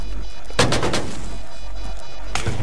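Gunfire in the video game Tom Clancy's Rainbow Six Siege: a few sharp, loud shots crack in quick succession near the start, then a lone shot near the end, over a steady low game hum.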